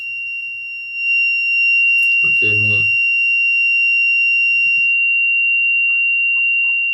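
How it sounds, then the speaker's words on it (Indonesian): A steady high-pitched alarm buzzer from a fire-detection device sounds continuously after detecting fire, with a brief spoken phrase over it near the start. "saat melakukan scanning terdeteksi api maka buzzernya akan menyala"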